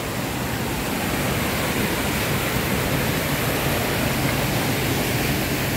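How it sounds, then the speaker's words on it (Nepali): Water spills over the dam of the Khardu drinking-water project in a steady, close, full rushing roar that stays even and unbroken throughout, with no voices. "र यहाँ ओभरफ्लो पनि सानो मात्रै गइरहेको छ"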